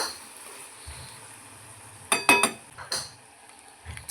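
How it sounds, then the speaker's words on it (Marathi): Marinated soya chunks are sautéed in oil in a pan, a soft low sizzle broken by a few clinking metal-spoon scrapes and knocks against the pan, close and fairly quiet. "ह्याच्यामध्ये ॲड करूया एक दोन ते तीन मिनटं परतून घेऊया आपण तेलामध्ये"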